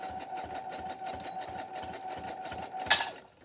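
A sewing machine stitching a soap pocket with a universal needle: a quiet, rapid, even mechanical rattle with a steady hum, ending in a brief sharp clack before it stops.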